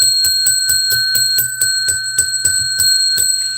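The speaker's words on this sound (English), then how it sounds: "1 ring of the bell for each 10 thumbs up." A bright metallic bell rings in a steady, rapid series of about a dozen evenly spaced strikes, loud and close, with a sustained ringing tone between hits and no talking.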